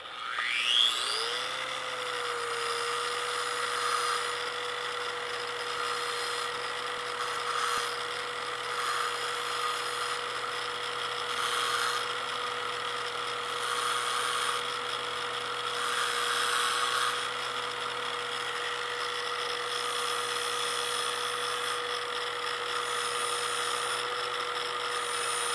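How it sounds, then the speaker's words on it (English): A bench grinder or small rotary grinder spins up with a rising whine, then holds a steady high-pitched tone while a tungsten electrode is ground against it, with faint scraping pulses of contact over the continuous drone. "so for grinding this tungsten"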